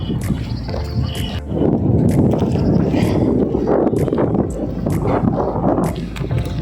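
Steady wind blowing around Lviv castle, a broad continuous rush with gusting swells that stays loud throughout, with no voices.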